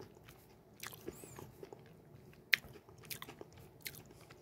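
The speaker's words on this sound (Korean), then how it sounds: "버섯은 좀 씹히네요." Someone chews mushrooms in a rice bowl with a yeolmu doenjang sauce, a few soft, moist bites and crunches up close, with a sharper snap partway through and nobody talking.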